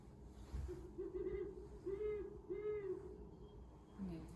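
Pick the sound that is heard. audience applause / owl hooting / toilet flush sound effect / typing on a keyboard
owl hooting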